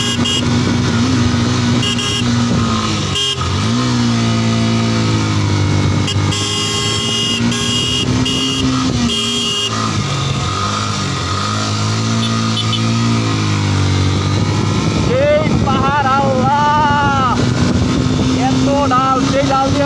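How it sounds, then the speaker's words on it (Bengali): A Yamaha Fazer motorcycle labouring up a steep hilly road, its engine loud and continuous with a rising, straining pitch throughout, and a person talking over it. "আমার ফেজার রকস্টার ভার্সন 2 ঘুম ঘুম ঘুম ঘুম ঘুম ঘুম ঘুম ঘুম ঘুম ঘুম ঘুম করে উঠে গেল"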